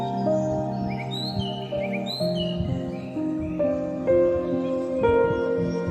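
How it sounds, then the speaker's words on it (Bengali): Birds chirp in short, bright, scattered calls above a continuous background of music. "পাখির কলরবে।"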